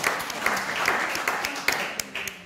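Audience applause at a clinic performance, a short burst of many hands clapping in a steady patter, moderately close.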